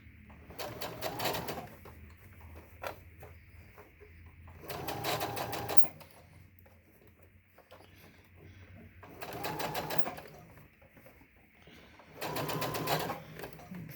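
Sewing machine stitching a fabric face mask with a filter pocket, running in four separate bursts of rapid mechanical stitching with quiet pauses between, a soft background murmur underneath.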